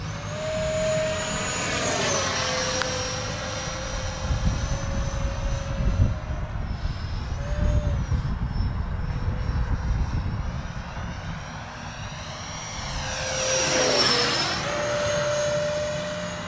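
A small FF-117 electric ducted-fan model jet whines overhead in flight, its high-pitched fan tone rising and falling as it makes repeated passes, steady and moderately loud against open outdoor air.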